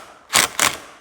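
An old DeWalt impact wrench works a 1-1/8 inch nut on a John Deere 512 loader lift hydraulic cylinder, giving two short, loud rattling bursts close by, separated by a brief pause, with no talking.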